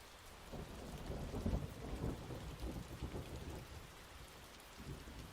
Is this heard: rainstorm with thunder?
yes